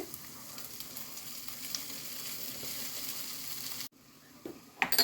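Cooked rice frying in a pan with garlic paste for fried rice gives a steady close sizzle, then a sudden brief break followed by a few clinks and scraping near the end; no one speaks.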